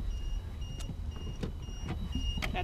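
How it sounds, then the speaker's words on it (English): A Ridekick power trailer's automatic turn-off gives a few short, faint electronic beeps spaced irregularly over a low background rumble, with no voices. "So that we heard some beeping, and that was an automatic turn-off feature."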